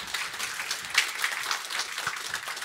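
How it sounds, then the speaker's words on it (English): An audience applauds at the close of a conference talk on Java garbage collection algorithms, a steady wash of many hands clapping at moderate level throughout, with no speech. "Big applause."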